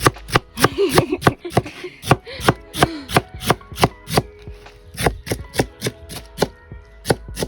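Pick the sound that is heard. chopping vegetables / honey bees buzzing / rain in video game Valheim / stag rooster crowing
chopping vegetables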